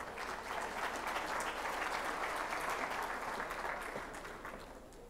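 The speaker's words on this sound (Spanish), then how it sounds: "Lo recibimos con un fuerte aplauso y lo escuchamos." Sustained audience applause at an education conference, dense and steady throughout, welcoming a speaker before an international guest begins to talk; loud and continuous with no voices over it, easing slightly near the end.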